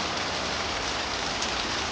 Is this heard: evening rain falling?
yes